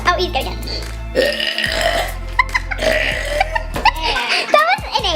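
A child burps loudly and at length, with several drawn-out belches in a row close to the microphone. People talk and laugh around them.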